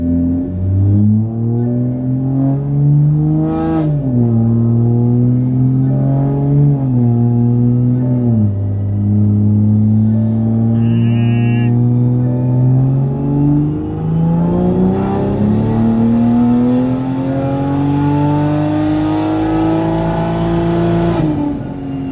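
2020 Toyota Supra making a dyno pull, engine revving loudly and climbing through repeated gear-like surges with rising pitch, close and continuous for the whole run.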